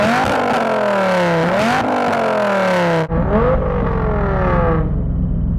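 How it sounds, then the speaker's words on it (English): Dodge Viper engine revving hard, loud and close, with rising and falling sweeps as the throttle is blipped repeatedly, settling into a deep throbbing idle toward the end. "Adam, rev up your Viper."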